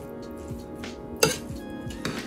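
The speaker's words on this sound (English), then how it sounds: "When it finished cooking, make sure you just stir it around" A spoon stirs cooked dirty rice in a pot, giving soft scraping and scooping with a few sharp metallic clinks against the pot, close and fairly quiet, with no talking.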